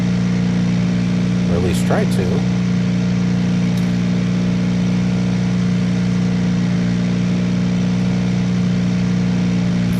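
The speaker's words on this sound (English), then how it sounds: "I'll turn that engine sound down a little bit there." Flight Simulator 2000 aircraft engine droning steadily in a low, even hum throughout, with someone talking briefly over it early on.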